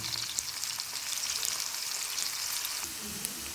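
Onions fry in a pan for a potato curry, a steady close hiss of sizzling oil running throughout with a few faint stirring knocks, no voices.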